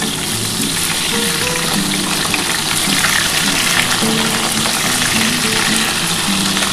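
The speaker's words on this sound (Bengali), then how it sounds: "বন্ধুরা দেখো আমার কিন্তু আলুটা একটু লাল লাল করে ভেজে নিচ্ছি" Potato chunks sizzle steadily in hot oil as they fry until reddened for a vegetarian aloo dum, a dense, continuous crackle with no voices.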